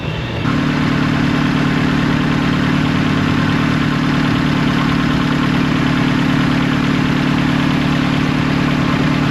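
A 2005 Hyundai Elantra or Accent with 185,000 miles and a high-performance exhaust idles close by. A steady, loud, low rumble starts abruptly and holds even and unbroken to the end, with no voices.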